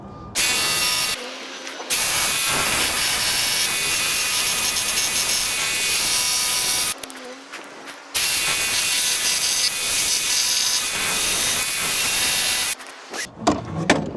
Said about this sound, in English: take my jigsaw and cut out this corner.